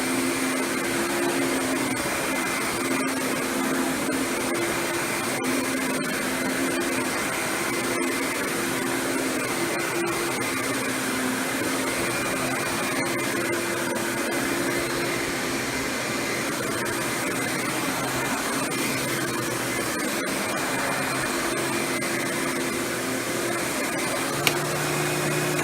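A Riccar 8955 upright vacuum cleaner runs continuously while picking up a mess, giving a steady, whining motor hum with a few faint clicks and rattles of debris.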